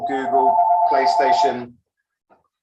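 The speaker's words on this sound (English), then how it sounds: "that was my phone." A mobile phone ringtone goes off during a talk at a student games conference, a steady electronic tone sounding under a man's speech for about a second and a half before cutting off.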